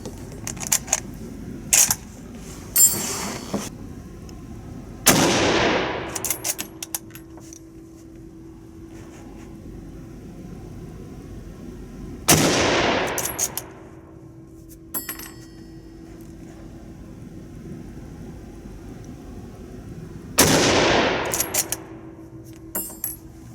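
Three widely spaced shots from a .303 Lee Enfield No.5 Jungle Carbine firing Privi ammunition, each a loud sharp crack trailing into a ringing echo, with metallic bolt clicks and rattles in between.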